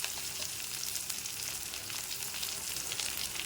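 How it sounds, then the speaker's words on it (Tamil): Mustard seeds, a dried red chili, onion and curry leaves frying in sesame oil for a white pumpkin kuzhambu tempering, giving a steady, close, even sizzle with faint crackle and no voices. "குழம்பு தலைக்கிறதுக்கு நல்லெண்ணெய் ஊற்றிருக்கிறேன் கடுகு போடுறேன் ஒரு வரமிளகா போட்டுக்கிறேன் வெங்காயம் போட்டுக்கிறேன் கருவேப்பிலை போட்டுக்கிறேன்"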